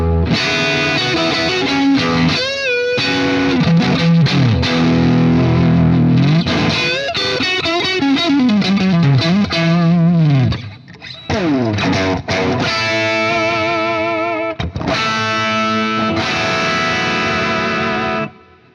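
An electric guitar plays loud, distorted chords and bending lead lines through a Marshall Super Lead amplifier at the Marshall factory, with a brief dip in the middle before the playing drives on.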